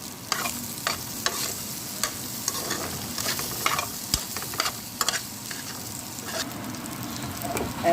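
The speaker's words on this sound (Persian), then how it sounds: "دارم سوسیسامو سرخ میکنم" Sausages fry in a pan with a steady close sizzle, broken by sharp clicks and scrapes as they are stirred and turned.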